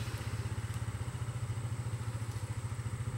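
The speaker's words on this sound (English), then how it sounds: "And we got a four-wheeler." A four-wheeler ATV engine idles close by, its steady, rapid pulsing chug continuing evenly throughout with no talking.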